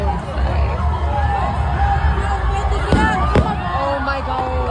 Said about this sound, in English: So, like, where's the fireworks?